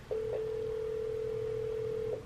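A steady, unbroken telephone dial tone from a hotel room phone in New York City, clear and close, sounding alone for about two seconds before cutting off.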